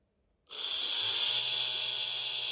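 Electric motor of a vintage 1960s Veron Caribbean Coaster model boat running forward on an 11-volt battery, starting abruptly and holding a steady, loud, high-pitched whine alone.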